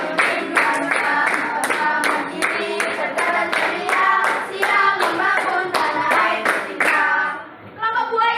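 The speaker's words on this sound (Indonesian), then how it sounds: "Oke, tepuk tangan untuk kalian semua" A group claps hands together in rhythmic, fairly loud applause that runs several seconds and then trails off near the end, with a voice briefly heard.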